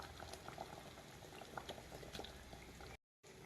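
Fish curry gravy with fresh agoli fish and mango bubbling hard in a pot, dense continuous boiling with popping bursts throughout, close and steady, cut briefly by a gap near the end.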